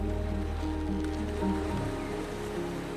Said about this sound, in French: Tu peux entendre le doux clapotis des vagues sur le sable